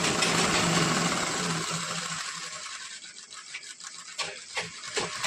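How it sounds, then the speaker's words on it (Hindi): A sewing machine stitches piping onto a katori blouse, running as a fast, steady mechanical buzz that gradually slows into separate ticking stitches and clicks toward the end, close up and with no talking. "इसके बाद हम सिलाई लगाएंगे इस तरह से।"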